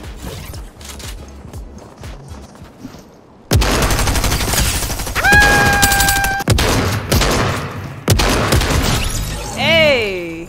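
Fortnite gunfire bursts in loud, rapid volleys after a quiet opening, with sharp shots, rising electronic tones and brief breaks between sprays; someone talks underneath.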